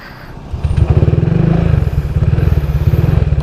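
A motorcycle with a stroked 125 engine, bored out to 62 mm, starts and idles loudly close by, thumping in a fast, even rhythm with heavy vibration.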